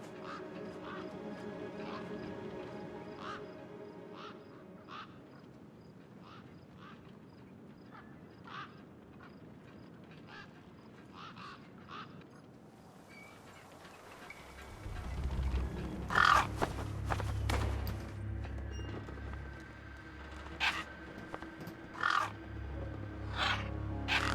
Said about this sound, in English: Then, I heard them. Gang birds, scavengers